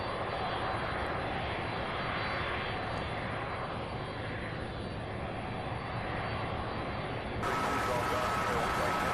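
A 32-year-old jet airplane taxis at Louisville's SDF airport, its engines producing a steady, broad roar heard from a distance, with a faint high whine and a brief shift in tone near the end.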